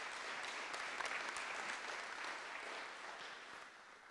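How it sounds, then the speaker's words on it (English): Sustained applause from an audience at an aerospace innovation presentation event, dense steady clapping, faint and distant, filling the whole stretch. "So let's give them all a tremendous round of applause."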